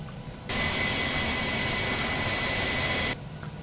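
Airbus A321 jet engines spooling up for takeoff in Flight Simulator X, a loud, steady broadband roar with a constant high whine that starts abruptly, holds for under three seconds, then cuts off.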